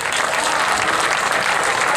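Audience at an All India Railway Act Apprentice Association gathering applauds for students sitting in the sun: dense, steady clapping from many hands, loud and continuous throughout, with no pauses.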